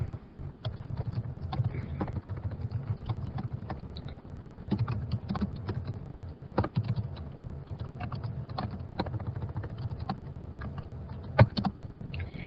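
Typing a comment on a computer keyboard, a steady run of light, close key clicks with uneven rhythm and occasional harder taps, continuing without pause over a low background hum.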